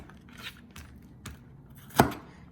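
A knife chops through jalapeño peppers on a cutting board, four sharp cuts spaced unevenly, the last the loudest and crispest, close and alone with no talk.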